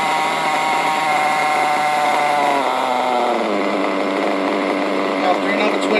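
A small petrol engine on a 5b build runs at idle, a buzzy, steady tone whose pitch drops partway through before settling, close and fairly loud with no talk.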